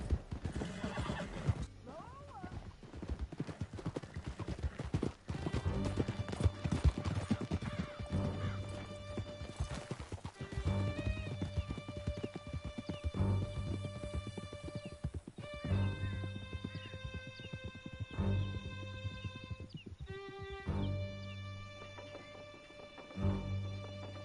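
Horse hooves gallop steadily in Red Dead Redemption 2 with a loud, continuous clip-clop, mixed with neighs and whinnies over a musical score.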